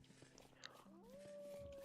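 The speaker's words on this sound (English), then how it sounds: "Yes, I hear you, puppy dog." A dog in the video game Vintage Story gives a faint whimpering, howl-like whine that rises in pitch and holds, set low beneath quiet game ambience.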